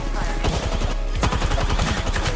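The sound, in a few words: gunfire laying down cover fire in video game Apex Legends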